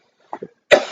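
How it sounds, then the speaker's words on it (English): Two short soft throat sounds lead into one sharp, loud cough close to the microphone, all within under a second. "you're usually like just coughing everywhere"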